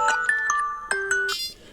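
Phone ringing found via tracker button pressed twice: a short melodic electronic ringtone of several quick bright tones in a rising pattern, close and clear, ending in a shimmering chime.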